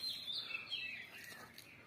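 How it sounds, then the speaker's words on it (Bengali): Small birds chirp and tweet close by on a village rooftop at dawn in Chandpur, Bangladesh, a quick bright warble over a soft morning hush, heard alone without talk. "একটু ছাদের উপরে দেখলাম পাখিগুলো ডাকতেছে"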